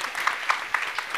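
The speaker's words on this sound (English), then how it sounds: "So let's give the panel a big applaud and thank you very much." An audience applauding a panel at an industry startup event, dense steady clapping with a few louder claps, brief and fairly loud, without talk over it.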